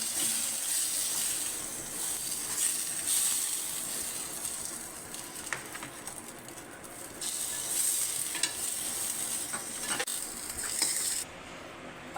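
Burger patties frying in a pan, giving a continuous close sizzle and hiss with occasional clicks of a utensil, with no talk over it.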